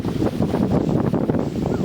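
Strong wind blows through a mango orchard, buffeting the microphone with a loud, continuous low rumble and gusty roar.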